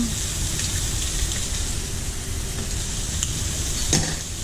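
A beef patty and an egg frying for an Aussie burger, with a steady loud sizzle and crackle of hot fat filling the whole stretch, close up, and a faint clink near the end.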